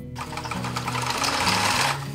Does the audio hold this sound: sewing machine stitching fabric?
yes